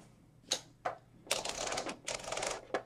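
Keys struck on a 1980 Royal Safari II manual typewriter, a few sharp separate clacks followed by a quicker burst of typing, close and fairly quiet.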